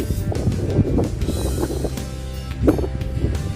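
Evening wind at a sandy beach, gusty low rumble buffeting the microphone with ocean waves washing in beneath, a steady outdoor roar with no talk.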